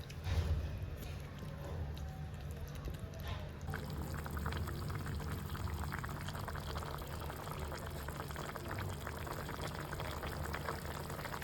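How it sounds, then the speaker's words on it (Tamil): Water is poured into a Sri Lankan-style spicy chicken curry in a traditional village kitchen, a steady close pour and bubbling wash that runs continuously without talk. "அதுக்காக நான் தண்ணி சேர்க்க போகிறேன்."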